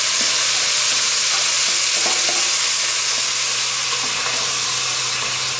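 Washed leeks sauté in a pot for Tuscan tomato bread soup, a loud, dense, continuous hissing sizzle close by, with a few soft stirring knocks underneath.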